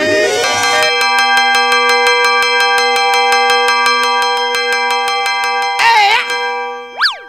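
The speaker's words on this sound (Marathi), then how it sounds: "काय घंटी वाजाडतो रे?" A bright bell rings steadily with many clear ringing tones, sustained for several seconds, then a wobbly sweep and a quick rising boing near the end.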